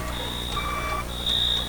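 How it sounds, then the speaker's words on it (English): Alarm in the FNAF Abandoned Dreams video game: a steady high electronic beep tone sounding in two long pulses over a constant low humming background, with no speech. "Alarm. Alarm."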